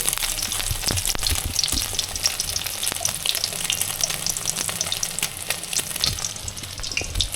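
Cornflour-coated bhetki fish pieces deep-frying in oil give a close, dense, continuous sizzle with scattered sharp crackles and pops.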